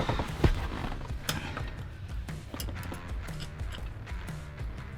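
Shifter bolts on a Falcon T5 short shifter fitted into an HQ Holden are tightened with an Allen key and a spanner: close metallic ratcheting and creaking turns, repeated in short bursts with no talk.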